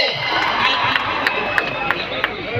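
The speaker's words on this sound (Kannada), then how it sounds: "ಬಲ್ಲಿ ಜೋರು ಚಪ್ಪಾಳೆ" A live audience at a stage song performance breaks into loud, sustained applause and cheering, a dense wash of clapping with sharp individual claps and whoops standing out.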